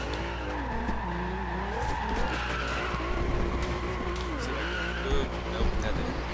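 A Volkswagen Golf R32 drifting in Forza Horizon 2, tires squealing in long wavering screeches over a steady engine drone, with someone talking quietly underneath.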